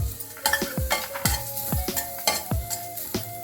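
Garlic and carrots sautéing in oil in a pan for sweet corn soup, with a soft steady sizzle under repeated scraping stirs of a utensil, close and fairly loud, without any talk.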